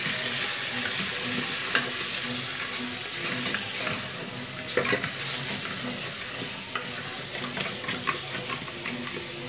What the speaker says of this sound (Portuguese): Agora eu vou pegar colher de pau pra poder mexer.